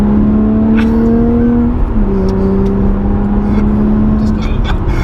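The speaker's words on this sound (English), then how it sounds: "we're taking the Evora 400 out for a spin" A Lotus Evora 400 sports car's engine drones steadily and loudly from inside the cabin, its pitch dipping slightly as it shifts, with people talking over the sound.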